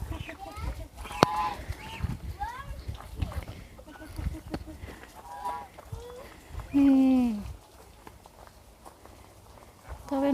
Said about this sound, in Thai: กำลังให้อาหารเป็ดอยู่